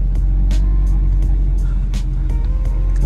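Twin-turbo Ford Shelby GT350 engine running loud and close in a steady idle or low rumble, with a few sharp bursts layered on top and no talk.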